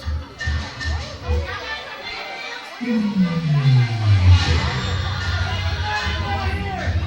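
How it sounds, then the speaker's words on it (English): Crowd at a wrestling arena growing loud and agitated, a swelling roar of voices and booing after a quieter stretch, with an announcer talking over it. "This crowd is furious."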